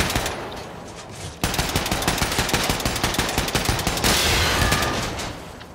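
Gunfire in the video game Wolfenstein II: The New Colossus: loud, rapid automatic fire hammering in a dense continuous burst, followed by a heavier blast and a roaring tail.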